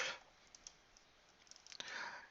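Soft clicking of keys on a computer keyboard during Excel spreadsheet work, a few quiet taps scattered across a faint, hushed background.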